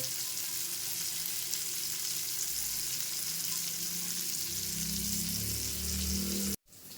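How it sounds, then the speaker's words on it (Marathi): Fish and prawns fry in a pan with a steady, close sizzle and crackle that holds for several seconds, a few louder bubbling bursts near the end, then a sudden cut. "मस्त असे ते मासे फ्राय होत आहेत हे बघा कोलंबी पण फ्राय झाली मस्त"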